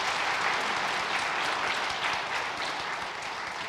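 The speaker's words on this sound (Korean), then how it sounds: "다 같이 큰 박수로 축하해 주시기 바랍니다." A church congregation claps together at a Christmas Sunday service, dense sustained applause filling the room at even strength before easing slightly toward the end, with no voices over it.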